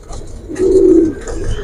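A pigeon gives a low, soft cooing call close by, with faint rustling and background noise around it.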